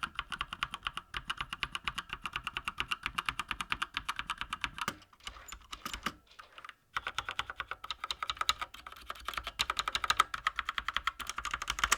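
Rapid, steady typing on a Cougar Combat mechanical keyboard with red switches, soft clicks, close and alone, pausing briefly midway before resuming.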